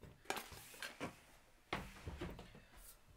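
A spatula is fetched and handled at a guitar workbench, giving a few light clinks and knocks in quick succession, close and faint, with no talk.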